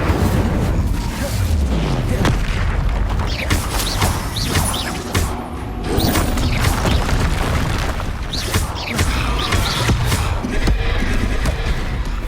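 Repeated fiery spell blasts from the video game Hogwarts Legacy, loud booming explosions and crashing impacts going off one after another in a dense, continuous battle barrage with no talk over them.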